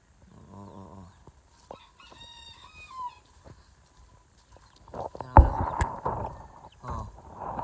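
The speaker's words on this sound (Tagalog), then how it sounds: "Matapang yan mga kamanok." Chickens and roosters in a yard: a rooster crows near the start, with clucks and scattered fowl calls, then louder mixed rustling and calls toward the end.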